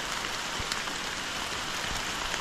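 Steady rain falls outdoors, a dense continuous hiss of drops on leaves and surfaces with a few louder splats, filling the scene evenly with no voices.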